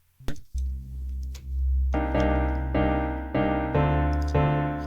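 A dark, muffled sawtooth synth bass softened by a low-pass filter plays a sequence of sustained notes, buzzy but softened, with a few short clicks at the start and no voices.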